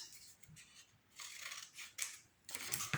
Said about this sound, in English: It is too long, so I'm just going to leave like 1 centimeter to overlap and cut out the rest.